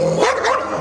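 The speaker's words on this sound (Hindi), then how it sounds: "और वो कुत्ता ऐसा भौंक रहा है जो कानों को फाड़ दे" A large dog barks loudly and harshly, one drawn-out close bark filling the moment, sharp and near with no other sound around it.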